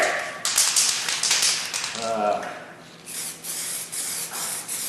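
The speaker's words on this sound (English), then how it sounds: "we're gonna spray a little bit of weld through primer" Weld-through primer sprays from an aerosol can in short hissing bursts onto a car body panel, with quiet gaps between passes and faint speech in the background.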